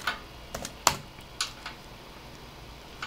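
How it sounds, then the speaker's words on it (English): Close, fairly quiet keystrokes on a computer keyboard, a handful of sharp separate clicks spread at an irregular pace across a few seconds, with no voices. "you would type in dir flash"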